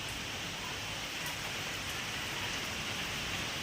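A constant wash of heavy rainfall, thick hissing spatter on surfaces all around, unbroken throughout.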